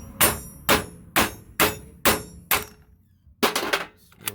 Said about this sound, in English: It's just a little pry tool here, and then I'm hitting it with this small sledge.